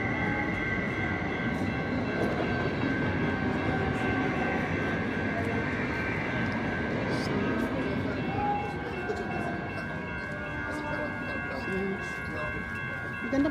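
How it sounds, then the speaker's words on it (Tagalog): A train passes through downtown San Mateo, California, at night, making a loud, sustained rumble and rolling clatter nearby with a steady whine above it, while a voice speaks intermittently. "Dito po yung train."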